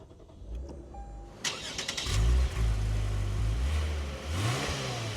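A 2024 Lexus IS350 F Sport cranks after a quiet moment with a few clicks, catches, and its engine flares loudly, then settles into a strong idle that surges again briefly, all heard up close.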